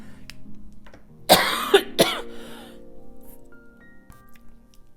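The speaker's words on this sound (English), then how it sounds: "Had a massive coughing fit" Someone has a coughing fit, with two sharp, loud coughs close together followed by throat-clearing and softer hacking, heard near against a quiet room.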